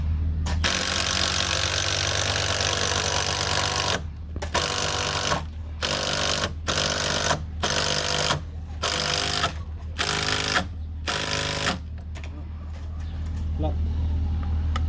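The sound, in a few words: driving temporary screws into timber decking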